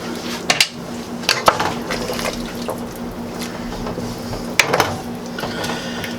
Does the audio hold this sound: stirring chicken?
yes